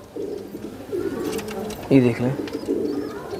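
Pigeons coo in a loft, several throaty rolling coos repeating close by, with someone speaking briefly over them.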